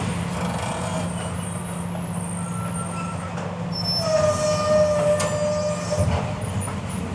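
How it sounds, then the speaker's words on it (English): Construction workers dumping scrap metal into a dump truck, heard as a steady low rumble with metallic clanks and scraping, and a ringing metal squeal that swells louder toward the end. "construction workers who were literally dumping metal into a dump truck"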